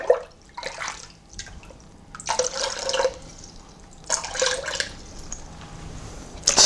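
Giant bubble mix liquid pours and splashes into a container in several bursts, with gurgling and trickling between pours, fairly close and moderately loud.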